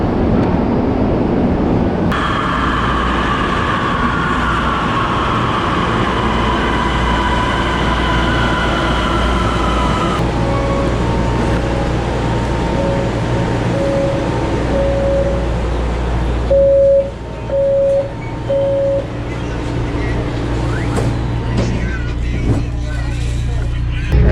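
A new, clean, air-conditioned passenger train in Panama rolls along with a steady low rumble and cabin hum, while brief tones sound and people talk intermittently through the ride.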